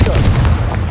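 A Confringo blasting spell bursts in Hogwarts Legacy, a loud close boom with a sharp crack at the start and rumbling low energy that stays dense through the short blast.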